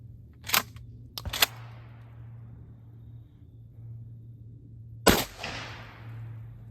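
A shotgun fires 00 buck shells over a chronograph outdoors: three sharp, loud reports, two close together near the start and one later, each trailing into a short echo over a low steady rumble.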